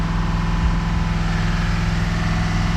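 A 6.6 diesel engine runs at raised RPM during a forced DPF regeneration, giving a loud, close, steady low drone with no breaks.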